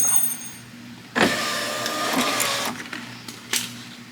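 A car's electric power window motor whirs steadily for a couple of seconds as the window moves up, starting with a clunk and ending with a couple of sharp knocks, close by.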